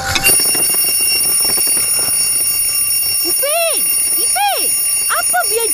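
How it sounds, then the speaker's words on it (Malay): An alarm clock rings loudly in a bedroom in a cartoon, a sustained high electronic ring with a few swooping vocal-like sound effects layered over it. "Apa biar jam tu berbunyi?"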